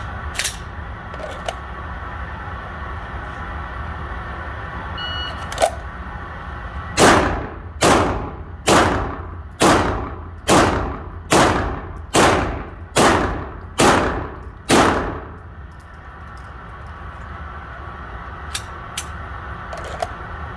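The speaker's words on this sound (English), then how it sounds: "So we're going to have 20 seconds to draw and fire the 10 rounds." Ten pistol shots crack out in a timed string at steel targets, evenly spaced about a second apart and loud and sharp, after a few faint clicks and before quiet resumes.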